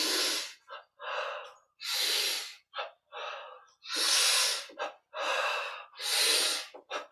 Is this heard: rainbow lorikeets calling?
no